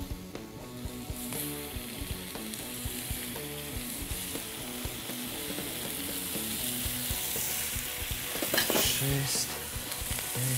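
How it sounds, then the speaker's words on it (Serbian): Thin slices of meat sear in heated oil on a very hot frying pan, a loud, steady sizzle with stirring that runs the whole time beneath background music, while a voice counts down. "Meso se peče 10-20 sekundi, bukvalno na vrelom tiganju."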